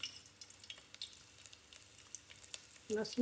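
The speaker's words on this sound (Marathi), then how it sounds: "तेल तापलंय. आता आपण यामध्ये टाकूया लसूण." Garlic sizzles quietly in hot oil in a pot, a faint crackling fry with a louder splash of sizzle near the end.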